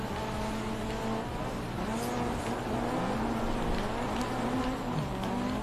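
Rally car engine revving and tires working through a rallycross race at Smelter in DiRT 3, rising and falling gear pitch under steady road noise, loud and continuous without talk.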